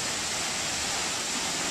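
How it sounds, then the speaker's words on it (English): Rainforest waterfall near Boquete, Panama, rushing as a steady, dense broadband roar with no break or rhythm, close and loud, with no voices over it. "Oh, there's the waterfall."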